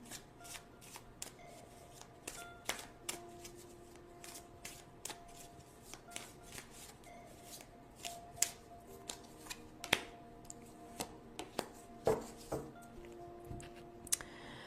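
Tarot cards being shuffled and drawn by hand, close and quiet, with soft papery riffles and a series of sharp snapping slaps as cards are pulled and laid down one after another.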